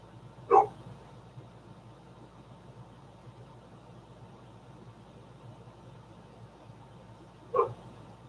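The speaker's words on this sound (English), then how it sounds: "There's my dog wanting back in because obviously he didn't get the squirrel" A pet dog outside a house door barks twice, about seven seconds apart, each a single short, moderately distant woof over a quiet, steady background hum.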